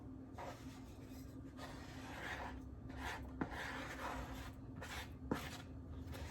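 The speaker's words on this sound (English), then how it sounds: "Scrape the ends of the bowl." A utensil scrapes the sides of a mixing bowl holding bread dough for no-knead sandwich bread, giving soft repeated rasping strokes up close, faint and uneven, with a couple of light knocks.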